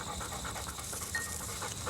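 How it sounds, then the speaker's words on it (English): A pointing dog pants steadily and rhythmically close by on a pheasant hunt, quick breaths running continuously against an outdoor background. "He's a pointing dog."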